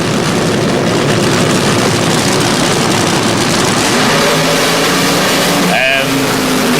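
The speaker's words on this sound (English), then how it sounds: "Burnouts completed, both cars approaching the starting line." Funny Car drag racers from 1977 rumble at the Summer Nationals starting line after their burnouts, loud, dense engine roar filling the clip with a rising note near the end as the throttle is blipped.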